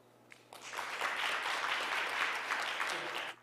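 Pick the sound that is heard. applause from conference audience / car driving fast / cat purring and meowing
applause from conference audience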